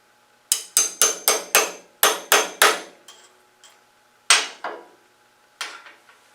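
Hammer blows driving a part into a metal workpiece in a machine shop, a loud close series of sharp ringing strikes, seven quick ones followed by a few spaced, fading taps.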